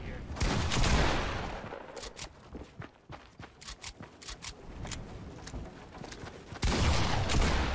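Rapid bursts of gunfire from a Fortnite match, with loud volleys at the start and end and a string of sharp shots and footsteps in between, close and dense.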